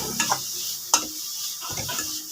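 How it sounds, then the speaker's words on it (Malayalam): Chilli, turmeric and chicken masala powders being stirred in a frying pan, with soft sizzling and a few sharp scrapes and clinks of the spoon against the pan. "എന്നിട്ട് ഇത് ചട്ടിയിൽ പിടിക്കാതെ നന്നായിട്ട് ഇളക്കി കൊടുക്കണം."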